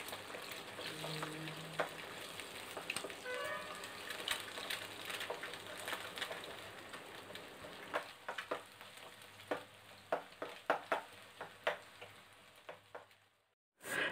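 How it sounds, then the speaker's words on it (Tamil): Egg frying in a pan with oil while making egg Maggi noodles, a steady close sizzle with scattered crackles and pops that grow sharper and louder toward the end before stopping abruptly. "அப்படியே லைட்டாக வந்து ஃப்ரை பண்ணி விட்டுருங்க."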